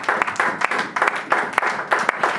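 A church congregation applauding, a close, steady round of rhythmic clapping from many hands with no talking.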